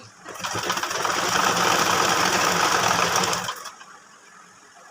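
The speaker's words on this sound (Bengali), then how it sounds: "সুতাটা ছিঁড়ে গেছিলো সেটাটা একটু টেনে টেনে আবার জয়েন করে সেলাই করে নিচ্ছি" An electric sewing machine stitching a baby frock, a steady close whirring run of about three seconds that stops abruptly, leaving quiet afterward.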